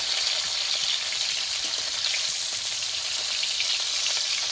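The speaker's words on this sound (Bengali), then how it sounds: "একদম সুন্দরভাবে ভাজতে হবে মাছটা, লাল লাল করে" Rohu fish pieces frying in hot oil in a pan, a loud, dense, unbroken sizzle that stays steady and close throughout.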